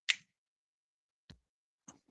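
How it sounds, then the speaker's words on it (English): A finger snap rings out crisp and bright at the start, followed by a couple of fainter, duller clicks spaced apart in otherwise near silence. "When I snap my fingers"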